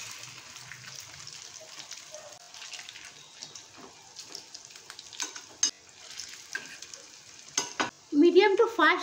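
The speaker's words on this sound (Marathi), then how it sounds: "मीडियम टू फास्ट गॅसवरती आपल्याला हे शॅलो फ्राय करून घ्यायचं आहे" Mixed vegetable burger tikkis shallow frying in hot oil over medium-high gas, a quiet, crackling sizzle with scattered pops and scrapes, and a brief voice-like tone near the end.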